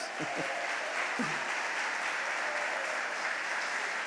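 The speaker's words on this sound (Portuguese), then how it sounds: "Se é para Jesus, pode aplaudir mais forte," Dense applause from a church congregation rolls on steadily throughout, with a few brief vocal bursts near the start.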